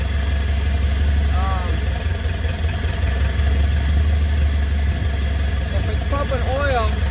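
An old scrapyard car engine running for the first time in 35 years, a steady, loud idle with a low rumble throughout and a brief voice heard faintly over it.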